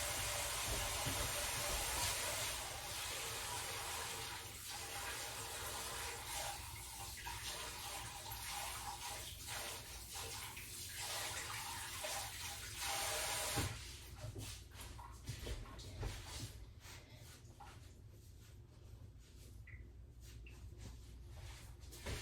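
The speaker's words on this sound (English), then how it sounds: "I'm going to let that sit there while I go wash my hands" Water runs steadily from a tap into a sink during handwashing in a home kitchen, a continuous hiss that eases and thins toward the end, with no talking.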